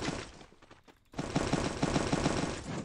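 Rapid gunfire in a Free Fire 4v4 match, a dense burst of repeated shots after a brief lull, loud and close with no talk over it.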